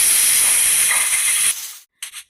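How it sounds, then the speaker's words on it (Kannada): A pressure cooker holding vegetable pulao vents steam in a loud, steady hiss for about a second and a half, cuts off abruptly, then lets out two brief sputtering puffs. "ಕುಕ್ಕರ್ ಮುಚ್ಚಳ ಹಾಕಿ 1 ವಿಷಲ್ ಆಗಬೇಕು."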